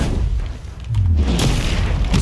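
The Incendio fire spell from the Hogwarts Legacy video game goes off as a heavy boom within a dense, constant roar of game noise, with a short low thud in the middle.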